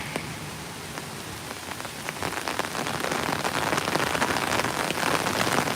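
Rain patters steadily on an umbrella on a walkway to Disney Springs at Saratoga Springs Resort, a dense continuous drumming of drops close overhead that grows slightly louder and heavier as it goes on, with no voices.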